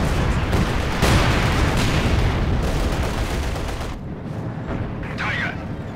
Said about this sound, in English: And another light artillery barrage, this time to punish the T-34.